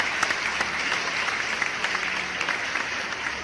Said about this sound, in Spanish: Un aplauso fuerte al Dios que vive